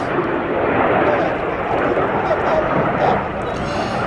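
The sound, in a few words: Red Arrows jet aircraft turning hard at an air show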